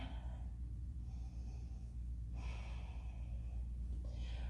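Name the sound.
deep breathing during a yoga flow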